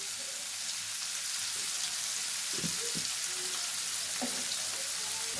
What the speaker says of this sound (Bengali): খুব কড়া করে কিন্তু পনিরগুলো আমরা ভাজবো না, মোটামুটি একটু নেড়ে চেড়ে নামিয়ে নিতে হবে।